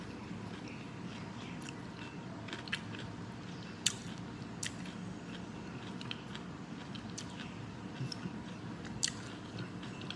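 Close, steady chewing of raw garlic, with wet crunching and occasional sharp bites over a constant background hiss.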